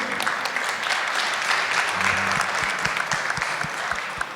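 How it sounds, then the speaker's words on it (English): An audience of delegates at a conference session applauds the speakers with steady, dense clapping from many hands that fills the room, close and loud, with no talking. "can you applaud all of our speakers and the previous three?"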